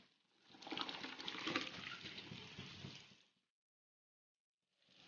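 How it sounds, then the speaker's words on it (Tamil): Water heats to a boil in a pot for cooking rice, a rushing, bubbling surge lasting about three seconds before cutting to silence, then briefly returning. "இப்போ சாதம் வடிக்க தண்ணி கொதிக்குது"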